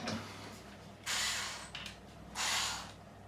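Screws are backed out of the rear plate of a Schecter Avenger electric guitar, with two loud, close grinding bursts of a screwdriver turning against stripped threads, separated by short pauses and a small clicking scrape.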